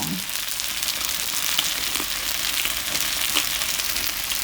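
Pork ribs sizzle in a cast iron pot, a steady close-up hiss of frying with faint crackles and a couple of small pops.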